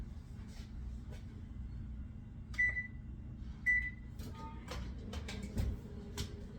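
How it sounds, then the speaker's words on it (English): An oven's control panel gives two short electronic beeps about a second apart while it is set to 350 in a kitchen. Faint clatter and low room noise surround the beeps, and one or two soft clicks follow. "Set your oven at 350."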